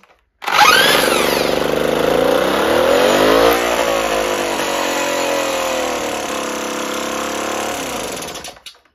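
A small engine fitted with an electronic ignition sensor in place of mechanical points fires up at once, then revs loudly with rising and falling pitch before holding a steady run and cutting off, heard close and alone.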